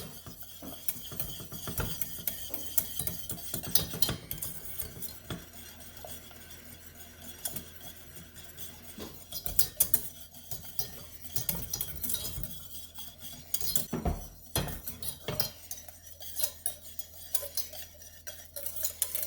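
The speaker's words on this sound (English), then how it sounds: "See, it looks like it's going to come apart, but you keep whisking." A whisk beating hollandaise sauce for keto eggs Benedict in a bowl, a fast rattling, clicking rhythm that comes in bursts at low volume, with no voices.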